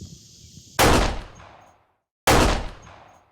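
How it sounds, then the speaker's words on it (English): Two sharp gunshots from a Ruger LCP II .22 pocket pistol fired outdoors at a wooden target 40 yards away, each a loud crack with a short decaying echo, spaced about a second and a half apart. "I got the wood down there at 40 yards, shooting the LCP."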